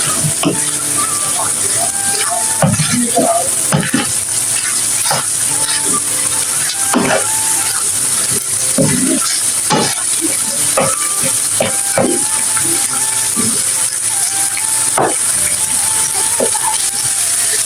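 Minced meat (keema) sizzles loudly in a hot pan on high heat, a constant crackling hiss broken by occasional scrapes and stirring clicks, close up.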